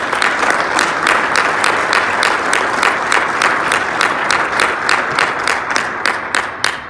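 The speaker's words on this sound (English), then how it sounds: "A round of applause to them as well." Steady, dense audience applause fills a city hall gathering during a mayor's annual state of the city address, many hands clapping at close range with no voices over it, tapering slightly at the end.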